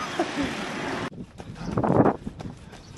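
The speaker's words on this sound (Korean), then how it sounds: "아 바람 진짜 많이 분다" Strong wind gusts roar outdoors on Jeju Island, buffeting the microphone with heavy rumbling noise that drops briefly and then surges again.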